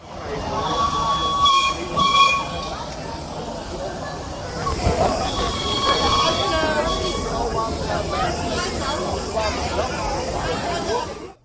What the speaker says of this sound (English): Struggling up the line is this geared steam engine.